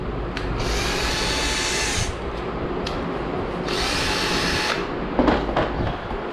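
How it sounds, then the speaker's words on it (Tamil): A low-torque power drill whirs in two bursts of a couple of seconds each, close and loud, with clicks and handling noise between the runs. "front bag low டார்க்கான drill"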